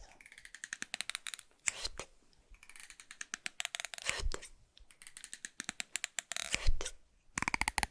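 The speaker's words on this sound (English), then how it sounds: "some scissors, so let me demonstrate" Rapid close-up snipping and crisp clicking, like scissors cutting in quick bursts, with brief pauses between runs.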